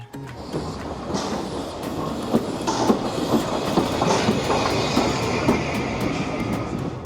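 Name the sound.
vintage steam train chugging, clickety-clack of tracks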